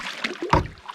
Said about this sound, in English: Now paddling up this little marshy creek area